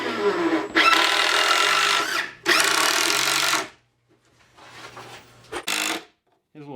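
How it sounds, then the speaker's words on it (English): Power drill driving screws down into a 12-inch wide wooden board on a heavy-duty sawhorse, heard as several loud whirring bursts that stop and start, with a few brief tool knocks near the end. "I'm screwing down a 12-inch wide board"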